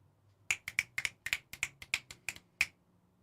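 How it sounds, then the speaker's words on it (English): A dozen crisp finger snaps ring out one after another in an irregular rhythm over about two seconds. Each snap is sharp, close and fairly quiet against a faint low hum, with no talking. "I'd be snapping my fingers all fucking day."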